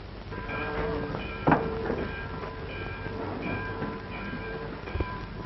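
A train rumbles and rattles steadily on the tracks, with clanking and a few louder knocks over the continuous rolling noise.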